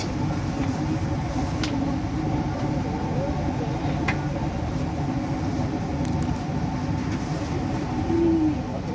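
The KA Majapahit passenger train pulls out of Bekasi station and runs on the rails: a continuous low rumble and rolling clatter with a few sharp squeals and clicks, heard from inside the carriage.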